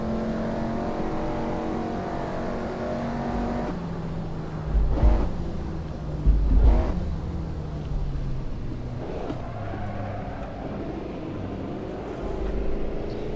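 Historic Formula One race car engines in a Reims 1959 French Grand Prix racing game, several cars bunched together, droning and shifting pitch continuously with two louder swells as cars pass close by.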